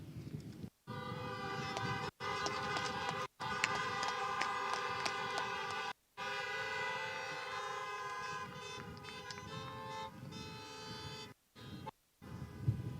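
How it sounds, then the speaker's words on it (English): Many car horns honking at an outdoor high school graduation, a dense, sustained chorus of overlapping horn tones with several brief pauses between bursts, loud and steady throughout. "I want you to honk your horn to show your appreciation for these people who helped get you here."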